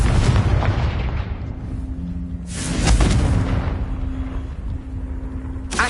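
In Hogwarts Legacy, the Confringo fire spell bursts with a loud, rumbling explosion whose roar swells and lingers before fading, followed later by a second sharp crack.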